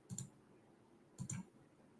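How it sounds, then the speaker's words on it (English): Computer mouse clicks come in two quick pairs, one near the start and another about a second later, close and crisp against a quiet background. "Let me just keep clicking on these pin messages."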